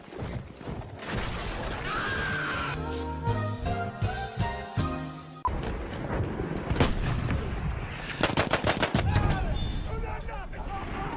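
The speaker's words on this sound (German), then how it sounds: "Was ist denn das für eine Pistole?" Pistol gunfire in the GTA video game cracks out in a quick cluster of sharp shots, set within a busy, loud mix of game noise, music and voices, with people talking and shouting.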